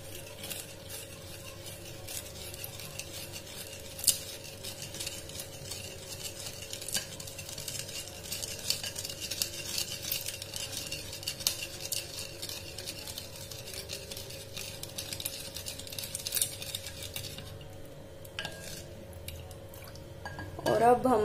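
Onions for vinegar pickling are mixed with salt and sugar, with quiet, scattered clinks and soft stirring sounds at close range over a faint background hum.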